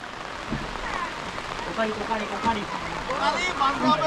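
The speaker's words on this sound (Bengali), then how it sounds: "এই কি বৃষ্টি" Steady rain patters across a surface, a constant dense hiss with scattered drops, while people talk over it.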